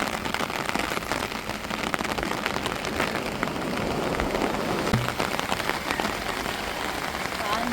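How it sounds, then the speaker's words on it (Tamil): Heavy rain drums steadily and densely on a surface, a continuous close-up patter with no pauses. "இந்த மழை வந்து 2 நாளாக இப்படி மூசாந்துக்கிட்டு இருக்கும்போதே"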